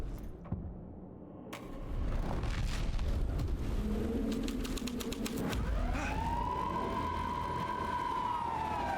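A police car siren in the video game Alan Wake 2 rises and wails loudly over a rumbling game soundscape, swelling in during the second half.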